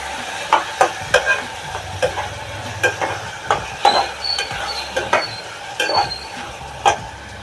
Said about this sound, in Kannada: ಟೊಮೆಟೊ ಹಸಿ ವಾಸನೆ ಹೋಗೋ ಚೆನ್ನಾಗಿ ನಾವು ಇದನ್ನ ಫ್ರೈ ಮಾಡ್ಕೋಬೇಕು